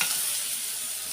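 Meat with onions, green peppers and garlic sizzles steadily in a pan, a close, even hiss with faint stirring.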